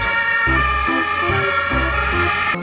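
A toy ambulance siren wails continuously and loudly in a repeating electronic pattern, close up and alone.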